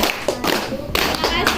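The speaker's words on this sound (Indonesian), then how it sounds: "ayo tepuk tangan 4 kali untuk kelompok 2" A training-session group claps for the second team in a few quick rhythmic bursts, close and sharp, with voices mixed in around the claps.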